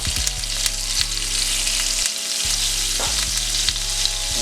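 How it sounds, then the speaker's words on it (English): A stick of butter melting into hot oil in a pan for blackened salmon, giving a loud continuous sizzle and crackle with a steady low hum underneath. "I already have nice oil in there, so I'm gonna go ahead and add a stick of butter to it."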